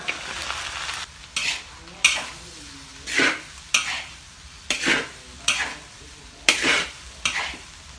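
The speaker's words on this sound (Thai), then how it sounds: "ข้าวสวยที่เย็นแล้วใส่เลย หอมใหญ่คณะใส่ต่อเลย" Cold cooked rice, marinated pork and onion are stir-fried in a wok for dark soy sauce fried rice. A spatula scrapes and tosses in regular, loud bursts, roughly one per second, over a steady sizzle.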